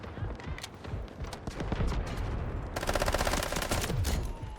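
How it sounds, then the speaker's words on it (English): Rapid bursts of MP7 submachine gun fire in Delta Force, close and loud, with a dense sustained stream of shots in the second half. "This is what the MP7 is made for, of course."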